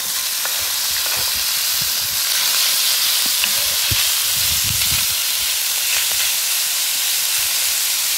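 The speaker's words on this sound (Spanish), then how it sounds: "Ya debe de estar caliente el sartén. Ahí va. Es importante que caliente para que el tocino no se pegue." Bacon sizzles steadily in a hot frying pan over an outdoor stove, a continuous close, loud crackling hiss with occasional pops throughout.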